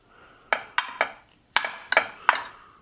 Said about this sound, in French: Je vais venir le débarrasser dans un grand plat pour l'étaler au maximum. Voilà. Et je vais venir verser le vinaigre dessus et mélanger tout doucement.